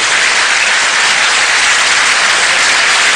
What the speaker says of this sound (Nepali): हलमा तालीको गडगडाहट जारी नै रहेको थियो